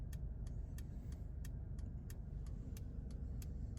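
A car cruises along in comfort mode with a steady low engine and road rumble from inside the cabin, punctuated by a rhythmic, regular ticking of the turn signal; no one speaks.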